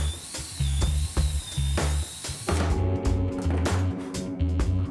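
A power drill with a 10mm bit whirs in steady bursts, its pitch dropping as it bores into a wooden log, loud and close with no voices.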